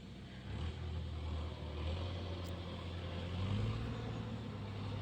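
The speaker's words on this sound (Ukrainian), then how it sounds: "Тут ще й сюди вскочив трактор." A tractor driving through a wheat field, its engine a steady low rumble that swells slightly as it draws nearer, heard alone with no talk, at moderate distance.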